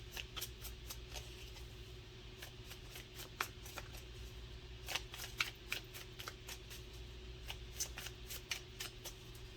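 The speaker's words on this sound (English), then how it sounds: "Give them another shuffle and see" A deck of oracle cards is shuffled by hand in a quiet room, producing repeated crisp riffling bursts and soft slaps at an irregular rhythm, close and fairly faint.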